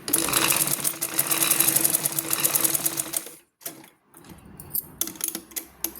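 A sewing machine stitching the lining of a blouse belt runs in a fast, steady whir of needle strokes, stops abruptly, then resumes in short bursts with brief pauses between them.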